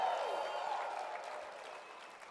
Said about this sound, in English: Some of you were clapping like this